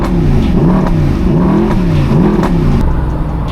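A Mercedes SLS AMG sports car engine revs hard, pitch sweeping up and down in repeated surges, loud and close with a throaty growl.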